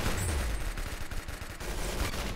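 Heavy video game gunfire from a big gun: a continuous, loud, close burst of rapid booming shots over about two seconds, with no talk over it.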